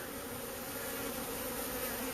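A honeybee swarm buzzes around an old box holding the queen, producing a steady, moderately faint droning hum of many wings with no voices.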